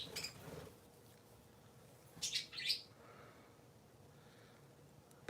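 Three pet parakeets give a few short, bright chirps in quick bursts, soft and fairly close against a quiet morning room.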